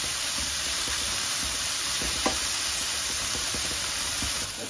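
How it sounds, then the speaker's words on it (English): Bell peppers sautéing over good heat in a pan for sweet and sour peppers, giving an even, continuous sizzling hiss with a few faint stirring ticks and no voices. "And make sure you maintain the good heat, the good sizzle"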